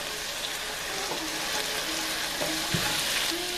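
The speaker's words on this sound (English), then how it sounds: "you do have to keep it stirring, because that the pan is hot" Bhindi masala of okra sizzling and frying in a hot pan, a steady dense crackle with occasional scrapes and clinks of a spoon stirring, close and continuous with no voices.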